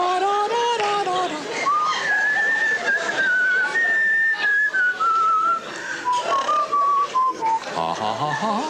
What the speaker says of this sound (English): I want you to sing now, not whistle.